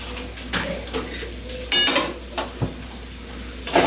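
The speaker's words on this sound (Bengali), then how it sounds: "এবার ভালোভাবে চাউমিনটাকে একটু ভাজা ভাজা করে নিতে হবে।" Veg chowmein being stirred and fried in a pan with tomato sauce, with a metal utensil scraping and clinking against the pan in irregular strokes over a soft sizzle, close by and without talk.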